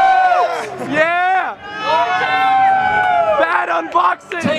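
A convention crowd at PAX Australia 2015 cheers and whoops for iDubbbz, with loud excited voices rising in bursts close by and mixed with individual shouts.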